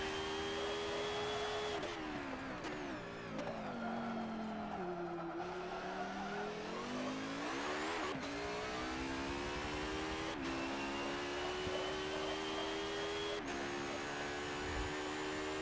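Race car engine in Forza Motorsport 7, a steady loud drone with rising and falling pitch as the car accelerates and shifts gears through corners, with brief tire squeal, continuous with no talking.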